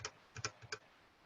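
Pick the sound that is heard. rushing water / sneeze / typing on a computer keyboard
typing on a computer keyboard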